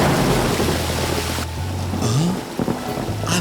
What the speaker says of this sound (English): I've never seen such a huge storm